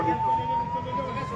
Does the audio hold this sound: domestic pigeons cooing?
no